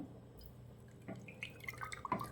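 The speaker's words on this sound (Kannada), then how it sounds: "ನಾನೀಗ ಇದಕ್ಕೆ ಅರ್ಧ ಲೀಟ್ರು ಕೊಬ್ಬರೆಣ್ಣೆ ಹಾಕ್ತಾಯಿದ್ದೀನಿ" Half a litre of coconut oil is poured into a container, a faint, quiet trickle with soft drips that grows slightly toward the end.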